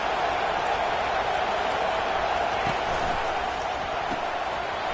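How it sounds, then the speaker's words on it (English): A football stadium crowd at an Ohio State versus Rutgers game roars steadily on third down, a broad, dense wall of cheering noise that holds loud and even throughout. "Decibels rising as the crowd gets behind this defense on 3rd down."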